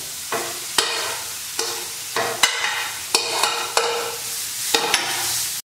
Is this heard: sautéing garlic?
yes